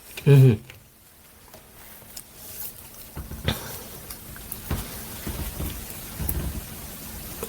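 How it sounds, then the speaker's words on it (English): Pepsi poured into a glass of eggnog fizzes with a crackling, rain-like hiss that builds after an opening loud bump and carries on steadily to the end. "That's going to fizz the hell up"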